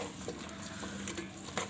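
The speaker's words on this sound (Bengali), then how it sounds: "এখন আমি এটা ভালোভাবে নাড়াচাড়া করে দিই।" A spoon stirs vegetables with prawns in a non-stick rice cooker pot, giving soft, quiet scraping and light sizzling for a brief moment, with no speech.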